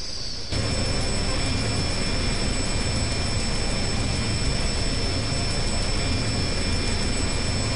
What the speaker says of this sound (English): Keep your guns quiet on that reaver. It's friendly aircraft.